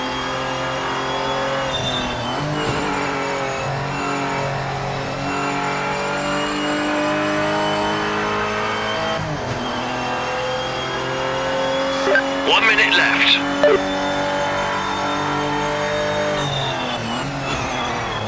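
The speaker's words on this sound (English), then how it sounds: "I think otherwise I'm hitting the rev limiter in second" A race car engine in the Project Motor Racing video game runs hard against its rev limiter in second gear, a steady high buzzing drone with brief tire squeals, under occasional talking.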